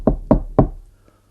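Three firm knocks on a door at a steady, evenly spaced rhythm, close and loud, followed by a faint fourth tap and then quiet.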